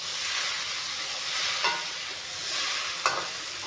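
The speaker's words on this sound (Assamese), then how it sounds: "এতিয়া নৰসিংহৰ পাতখিনি যিহেতুকে দিছোঁ, অলপমান লাৰি দিম।" Okra with curry leaves sizzles steadily as it is stirred in a pan over low heat, with a couple of sharper scraping stirs standing out against the constant frying hiss.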